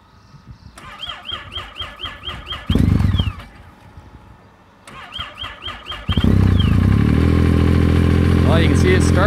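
A snowmobile engine left sitting for a week at minus 36 degrees, on a lithium battery, cranks in two tries, the second catching and settling into a loud, steady running roar close by.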